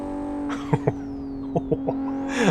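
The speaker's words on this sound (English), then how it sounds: "Not just the turbo flutter, but" A modded race car in the racing game Live For Speed runs with a steady engine tone broken by several quick turbo flutter chirps and a rising rev near the end, under no talk.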